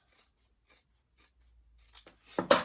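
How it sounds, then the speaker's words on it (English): Scissors snip through fabric as a quilted bag's triangle piece is trimmed down to a quarter-inch seam allowance: a few faint, brief cuts at first, then louder, closer snips building near the end, with no talking. "take your scissors or your rotary cutter, and this triangle piece here, we're just going to cut it down to 1/4 inch or so seam allowance like this"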